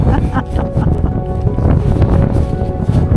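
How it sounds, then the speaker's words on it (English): Strong wind buffets a microphone aboard a boat in Arctic winter Norway, producing a steady, loud blustery roar with gusting pulses, while voices talk faintly underneath. "Strong breeze."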